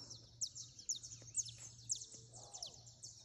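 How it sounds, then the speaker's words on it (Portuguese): Birds sing at dawn with a dense chorus of bright, repeated high chirps and trills, fairly near and continuous, over a faint low hum and no talking. "As aves já despertando."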